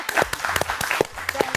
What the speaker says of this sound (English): I will stand and applaud.